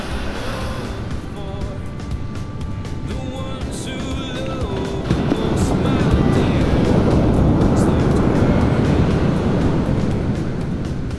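Waves break on a cold California beach, a broad rushing wash that swells louder in the second half, mixed with wind buffeting and some background engine-like noise.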